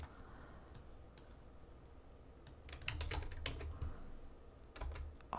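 Someone types on a computer keyboard in quiet, close bursts of light clicking, with a slow start and then a quicker flurry of keystrokes.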